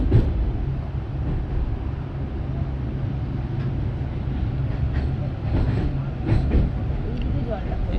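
Darjeeling Mail train rumbling steadily across the long Farakka bridge, a continuous low rolling roar from inside the carriage with faint clatter, heard throughout without a break.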